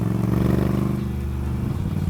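A Moto Guzzi V9 Roamer motorcycle cruises along with a steady, pulsing engine drone mixed with wind noise, loud and continuous from the rider's position.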